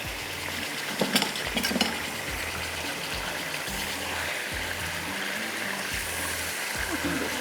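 Chicken fries in a pan for a Dumpukht Murgh dish and is turned over, sizzling softly under a woman's speech, with a couple of utensil scrapes and clinks near the start.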